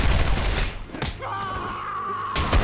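Enemy gunfire in Batman: Arkham Asylum, a few sharp shots and a burst near the start and end, with a sustained tone in between.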